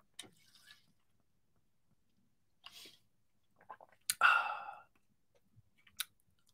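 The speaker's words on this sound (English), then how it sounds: "Let me take a sip of my adult sippy cup." A few quick sips from a Water H smart water bottle, with short wet slurps and clicks separated by quiet pauses, close and intimate, plus a soft breathy exhale.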